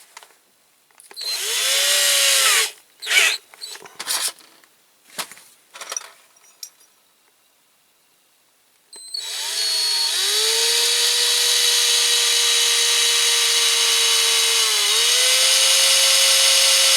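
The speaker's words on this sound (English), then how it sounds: "those axles are going to be drilled out." A power drill bores out the axles of a Corgi Massey Ferguson 65 toy tractor: several short whirring bursts, then one long continuous high-pitched run, close and loud.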